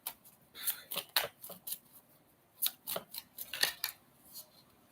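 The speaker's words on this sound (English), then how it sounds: "let's pull some more cards" Tarot cards being handled and shuffled at close range, with a series of crisp, sharp papery flicks and snaps in irregular bursts and quiet gaps between them.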